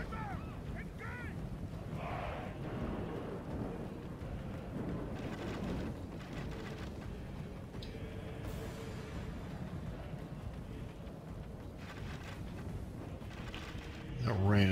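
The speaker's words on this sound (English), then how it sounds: "That rain is not helping me at all." Steady rain and rumbling thunder from a Rome: Total War battle, a dense continuous wash with low booms running throughout, ending in a louder burst near the close.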